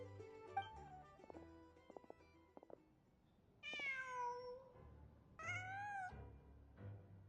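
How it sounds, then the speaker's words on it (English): A cat in the video game Genshin Impact gives two quiet, drawn-out meows a couple of seconds apart, over soft ambient game tones. "Just a cat."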